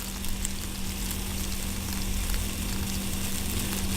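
Einkorn pancake batter sizzles on a ghee-greased griddle in a steady, close, moderately loud hiss with faint crackles, joined by a low constant hum throughout, and no voices present.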